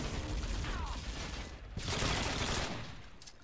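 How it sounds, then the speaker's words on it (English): Dense gunfire from the video game Modern Warfare 2, played on modded custom maps, keeps up a near-continuous loud burst of shots and fusillades throughout, swelling again in the second half. "I do not see where we're getting shot from."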